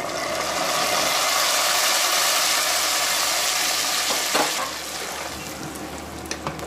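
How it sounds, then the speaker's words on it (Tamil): Fried tempering stirred into a pot of rice kheer gives a loud, steady frying hiss for about four seconds, then drops to quieter sizzling with faint scraping. No one speaks. "தாளிச்சதை வந்து அதோட வந்து ஆட் பண்ணிக்கலாங்க."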